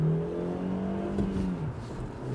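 An old £200 scrap car accelerates hard, its engine revving in a loud, rising then falling drone that sweeps upward before easing off, heard close from inside with no voices.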